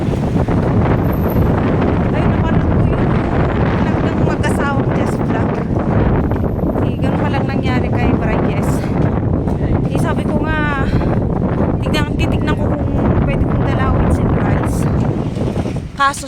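Strong wind buffets the microphone outdoors, a loud continuous rumbling roar with gusts throughout, while people talk over it.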